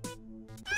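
A person imitates a cat, giving a short, close-up meow into a microphone to steer a video game; a couple of clipped, voiced meow sounds in under a second.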